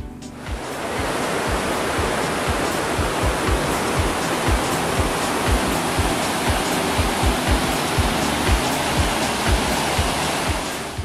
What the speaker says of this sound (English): you still get some really great views of the waterfalls and the raging river